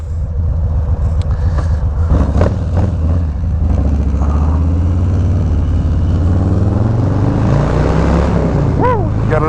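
A Harley-Davidson Low Rider S motorcycle engine runs loud and close, its rumbling note rising and falling through a revving pull, with wind noise throughout and a brief voice near the end.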